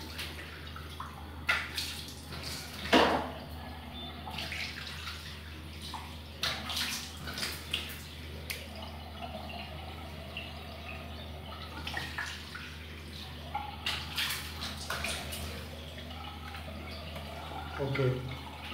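Water splashes while a face is rinsed after a shave with a Gillette Mach 3 razor, with scattered soft splashes and drips over a running tap's low hiss, fairly faint and close.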